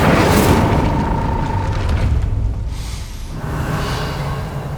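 The Incendio fire spell from Hogwarts Legacy erupts in a loud, dense burst of roaring flame that fills the whole moment, briefly eases, then swells again in a second fiery rush.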